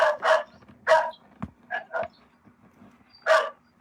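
A dog barks nearby in a series of sharp, loud barks, paired and single, with short gaps between them and a thump in the background.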